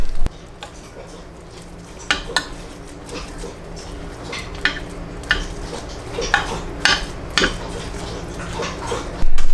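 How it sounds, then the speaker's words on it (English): A spoon clinks and scrapes against a pot while food is stirred at home, a series of irregular metallic knocks and scrapes close up, with no talking. "I'm gonna stir it."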